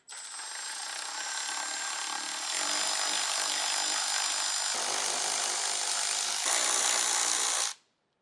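Ten-millimetre bolts backed out of the top of a Toyota Tacoma grille with a power tool: a steady, close, high whirring that runs for several seconds, shifts pitch a few times, then stops abruptly.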